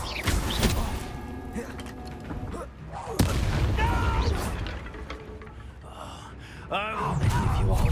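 An Incendio fire spell is cast in the video game Hogwarts Legacy during combat, a dense rumbling blast with a sharp crack near the middle. It rolls among gasps, creaks and other battle effects, loud and close.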